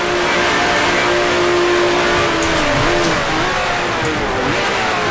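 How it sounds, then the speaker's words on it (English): A 1966 Formula One car engine in Grand Prix Legends, loud and close, droning steadily with pitch dipping and wavering as it engine-brakes and shifts down. "Let the car's engine do a little bit of work to slow it down."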